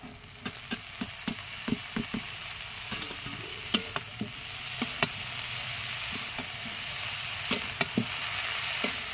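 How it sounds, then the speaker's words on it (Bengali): Bitter gourd and potato pieces fry in a pan with already fried shrimp, a continuous close sizzle broken by regular sharp clicks and scrapes of a spatula stirring, without any talking. "আজকে উচ্ছে আলু দিয়ে ভাজা করছি"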